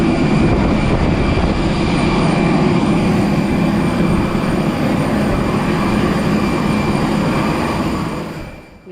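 A large passenger airliner's engines roar steadily in flight, a loud, constant broadband drone with a low rumble that fades away at the end.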